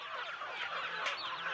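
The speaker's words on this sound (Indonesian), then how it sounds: "Kita melihat adalah di sekeliling kita ini ada ayam." Farm chickens cluck and call around a rural village, a busy, close overlapping chorus of fowl with no talk.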